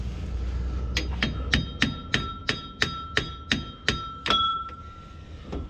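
A hammer strikes a metal prop on a Toyota FJ40 about a dozen times in a steady rhythm, each blow ringing with a bright metallic clang, loud and close, with no voices.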